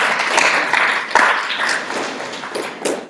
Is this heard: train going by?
no